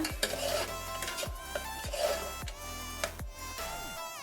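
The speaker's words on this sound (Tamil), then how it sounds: "எல்லாத்தையும் கலந்து விடுங்க." A spoon stirs beetroot biryani mixture with curd and lemon juice in a metal pot, repeated scraping and clinking strokes close up, steady and alone.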